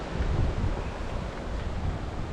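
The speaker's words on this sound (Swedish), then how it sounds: "Blåser lite kallt." Cold wind blows across a fishing stream, heavy low rumbling gusts buffeting the microphone, strongest early then easing slightly, with a faint rush of moving water beneath and no talking.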